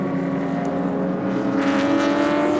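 GT cars racing at the Autopolis circuit in a 2014 GT Asia round, a loud sustained engine drone with steady harmonic whine that swells as a car draws nearer.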